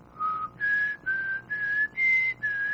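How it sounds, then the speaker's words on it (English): A person whistles a tune in six sustained, clear notes with short gaps, close and alone, no talk over it. "Can you whistle the X-Files theme?"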